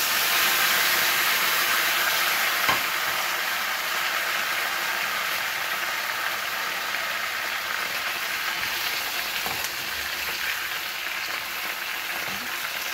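Potato pieces fry with cumin seeds and curry leaves in a hot pan for aloo bhujia, a continuous bright sizzling hiss held steady and close for a long stretch, with a few faint clicks and no voices.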